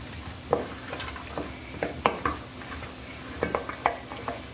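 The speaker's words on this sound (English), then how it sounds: "A little spoon here, mix this all around." A spoon stirs tapas ingredients with olive oil and parsley in a dish, giving close, irregular clinks and scrapes against the bowl with soft shuffling between strokes and no talking.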